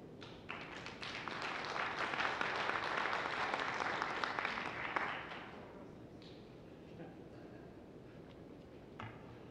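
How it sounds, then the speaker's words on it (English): Audience at a county board meeting breaks into applause and cheering, a steady wash of many hands for about five seconds that then drops to quiet room tone with a few stray taps. "The cheering was for Ms. Kramer"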